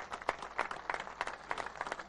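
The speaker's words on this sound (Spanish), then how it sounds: "un aplauso para la gente de Caspalá" A small crowd at a road inauguration in Caspalá claps in a loose, uneven rhythm, moderately loud, with scattered individual claps standing out.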